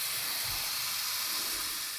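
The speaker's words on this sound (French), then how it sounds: "je vais remettre de l'eau là-dedans" Water pours into a pot of potatoes in a home kitchen, a steady, fairly quiet hiss of splashing water that runs without a break.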